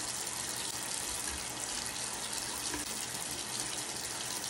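Tap water runs steadily into a sink while someone washes their face, a soft, continuous splashing hiss heard close with no talking.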